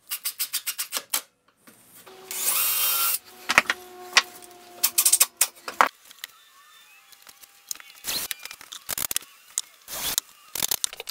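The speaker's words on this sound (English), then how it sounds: "I can glue and screw those onto the back of the clamp racks" Wooden cleats being screwed onto the back of wooden clamp racks with a power driver, giving bursts of whirring and ratcheting separated by short pauses and clicks, close and loud with no talking.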